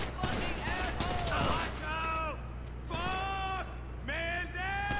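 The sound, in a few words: gunfire in video game GTA V Online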